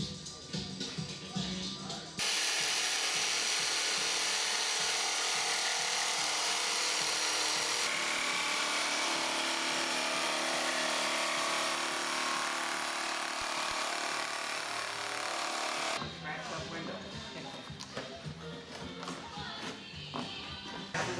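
A power tool cuts through an aircraft engine cowling on a Viking Aircraft 130 engine installation, a loud steady whine running about fourteen seconds between brief tapping and handling at the start and end.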